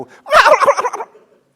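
A man imitates a turkey with his voice, giving one loud, close, rapid rattling gobble that trails off after about a second.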